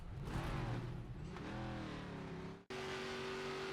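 Stock car engine in the video game NASCAR 25 during a lap, a steady droning whine with shifting harmonics that cuts out briefly, then returns at a higher constant pitch.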